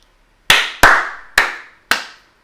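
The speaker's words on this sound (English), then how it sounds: "You might want to try clapping it" Four crisp hand claps, close and alone in a quiet room, tapping out an uneven song rhythm.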